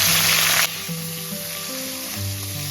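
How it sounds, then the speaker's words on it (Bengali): Garlic paste, chopped onion and ginger hit a hot pan with a loud burst of sizzling, which quickly settles into a softer, steady frying hiss beneath faint sustained tones. "প্রথমে দিচ্ছি আমি রসুন বাটা দিচ্ছি পেঁয়াজ কুচি আদা কুচি"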